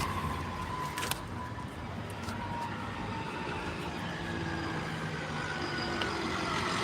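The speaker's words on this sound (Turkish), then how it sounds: "Otobüs." A bus going past at a Turkish roadside, its steady broadband engine and tyre rumble filling the scene at a constant moderate level, with a brief louder knock near the start.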